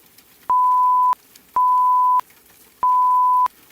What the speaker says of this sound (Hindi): तभी हर उपकरण एक साथ बीप करने लगे